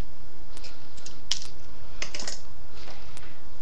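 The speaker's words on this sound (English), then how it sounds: "I'm just going to cut that right in half with my Timmy scissors." Small thin-bladed craft scissors snip a thin metal filigree piece in half, giving a few sharp, close clicks and crisp snips spaced irregularly over a quiet background.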